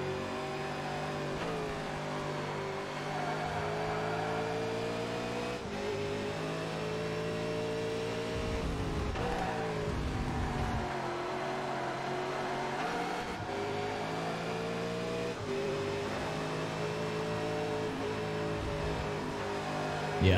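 V8 supercar racing engine in the ToCA Race Driver 3 video game, a loud, steady high-revving roar with repeated gear-shift dips and rises, continuous and close, with no talk.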